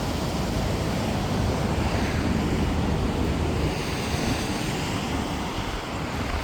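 Constant rushing surf of sea waves on the shore at Ünye, loud and continuous, mixed with blustery wind buffeting the microphone.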